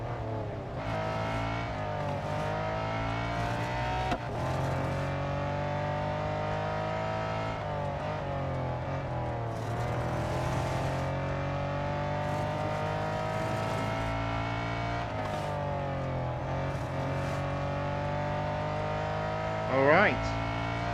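Race car engine from the Real Racing 3 game on a penultimate lap, a steady loud drone with shifting harmonic pitch as it revs through gears, brief rising whine near the end, continuous and close.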